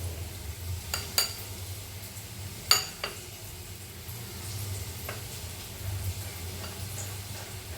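Fried potatoes with spice paste, water, cumin, coriander and green chilli are stirred in a pan, with a few sharp utensil scrapes and clacks over a faint, steady sizzle.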